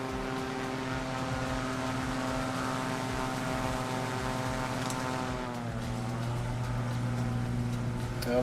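Aircraft engine drone from Microsoft Flight Simulator during a community flight, a steady propeller-like hum with strong tonal harmonics that shifts pitch partway through, continuous and moderately loud with no speech.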